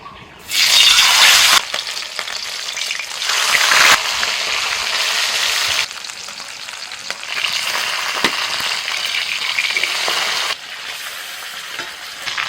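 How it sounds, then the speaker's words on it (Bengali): Fish frying in hot mustard oil in a wok, a loud, close hiss that surges in strong bursts as pieces are added and moved, then settles into a steady sizzle between the surges. "তেল হয়ে গেছে মাছগুলো ভেজে নেব"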